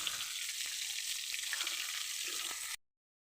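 Tilapia fish sizzles steadily in hot oil, a soft continuous crackle that cuts off abruptly into silence.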